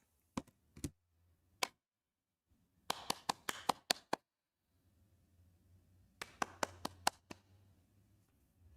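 Sharp single hand claps come in scattered bursts, a few isolated claps and then quick runs of four to six, close and crisp in a quiet room with faint background murmur between them.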